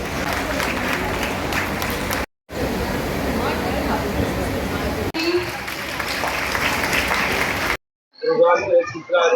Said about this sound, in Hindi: जोरदार तालियों के साथ इनकी हौसला अफजाई की जाए